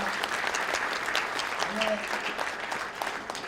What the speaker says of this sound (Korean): 하나님께 영광의 박수 한번 칩시다